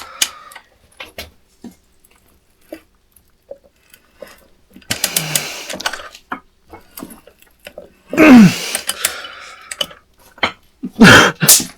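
Someone threads pipe by hand for a house job, with scattered ratcheting clicks and metal scraping, mostly quiet with a few louder bursts near the end, and no speech.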